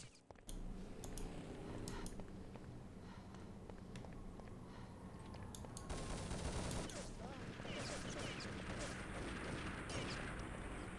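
Gunfire from a competitive online shooter match in a NationsCup quarter-final between Belgium and Slavic, with bursts and single shots crackling steadily across the clip amid clicks, growing denser and louder in the second half while a commentator speaks over it.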